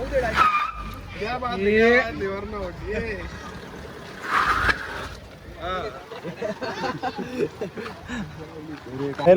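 A car stuck in deep mud revs as its wheels spin and slip in bursts, with loud excited voices talking and shouting over the engine throughout.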